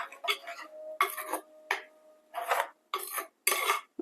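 Fish avial curry with mango, soaked fenugreek seeds and curry leaves being stirred in a pan: short, intermittent bursts of scraping and clinking, close and fairly quiet, with brief pauses between strokes and no talking.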